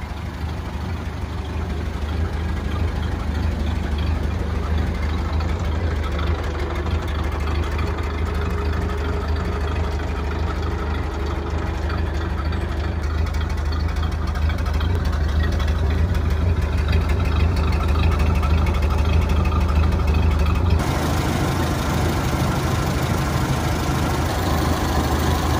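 Ford Model A pickup engine idling after three and a half months of storage, a steady low rumble that runs evenly and close for the whole stretch, with no talk.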